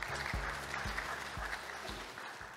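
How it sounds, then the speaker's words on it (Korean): Audience applause at a youth peace roundtable during an academic conference, a steady broadband wash of clapping held for a couple of seconds with low thumps underneath. "그러면 박수로 발제를 요청드리겠습니다."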